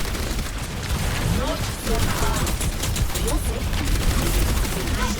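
Gunfire from Overwatch gameplay plays as dense, rapid bursts of shots and impacts, loud and continuous throughout, while a voice talks over it.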